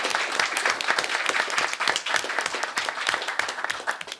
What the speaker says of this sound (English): I would just like everyone to give them another round of applause.